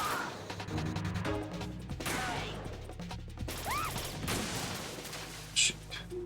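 PSG-1 sniper rifle fire in the Metal Gear Solid 2 game, sharp cracks scattered among crashes and clatter in a busy, noisy mix, with a louder pop near the end and no clear talking.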